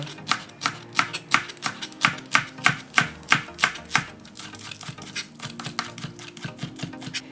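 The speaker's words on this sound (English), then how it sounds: "Cut one large green onion diagonally." A knife slices a large green onion diagonally on a cutting board, steady rhythmic chops about three per second, close and crisp, alone without any talk.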